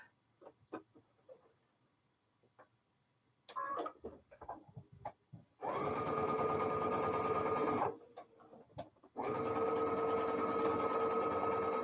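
A sewing machine runs in two steady, loud bursts of rapid stitching, preceded by scattered clicks and handling noises.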